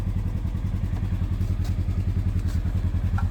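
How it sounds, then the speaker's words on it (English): A motorcycle engine idles close by in a steady, rapid low putter, left running after its cables were fitted, with no voices. "Bike's still running from when I left you guys last time"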